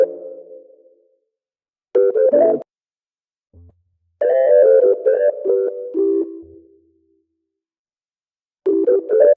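Two keyboard samples from the Native Instruments Burnt Hues expansion, soft tonal chords and short melodic phrases separated by silences, clean and moderately loud with no talking.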